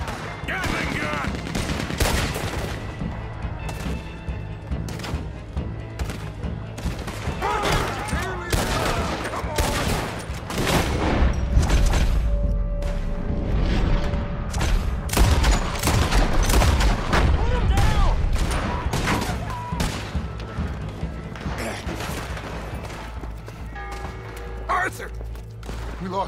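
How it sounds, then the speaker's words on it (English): Rapid bursts of Gatling gun fire during a bank heist shootout in the video game Red Dead Redemption 2, loud sustained volleys mixed with other gunshots and heavy thuds, with in-game voices shouting over the battle. "Gatling gun!"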